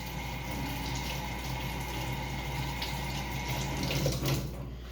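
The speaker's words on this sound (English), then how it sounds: "Wash my hands off really quick." A sink tap runs in a steady stream while hands are rinsed underneath, a constant close splashing hiss for the full few seconds with no talk.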